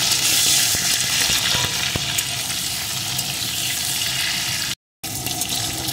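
Pumpkin pieces frying with potatoes in a pan, a continuous dense sizzle with occasional faint stirring taps, cutting out briefly near the end before resuming.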